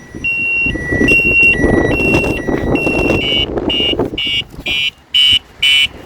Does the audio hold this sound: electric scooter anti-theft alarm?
yes